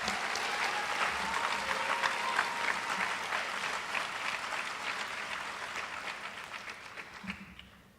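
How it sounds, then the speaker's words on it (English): A crowd at a high school athletic banquet applauds steadily for around seven seconds, a dense wash of many hands clapping that tapers off at the end. "Give those two a round of applause."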